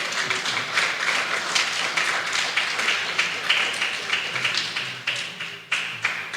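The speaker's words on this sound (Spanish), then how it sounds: "Da un aplauso al Señor, amén." Church congregation clapping in praise during a Spanish-language Bible study service, a brisk, fairly even patter of many hands at moderate loudness, slightly uneven toward the end.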